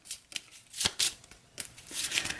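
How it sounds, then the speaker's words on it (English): A deck of cards from the Cthulhu: Death May Die board game being shuffled, several close riffling bursts with brief pauses between them, fairly quiet. "So I do need to shuffle the... Mythos deck again. So we'll give that a quick shuffle."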